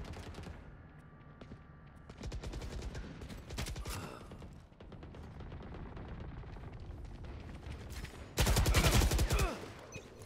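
Rapid gunfire in a Valorant team deathmatch, repeated close bursts of shots with a loud sharp cluster of firing near the end, amid game sounds.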